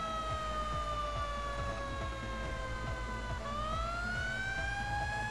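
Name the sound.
fire engine siren, from a firefighting video game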